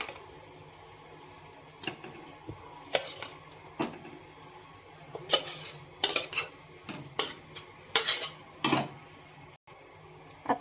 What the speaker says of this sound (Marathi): आता मी भाजी टाकते ह्याच्यामध्ये